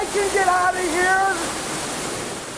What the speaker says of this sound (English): We've got water gushing.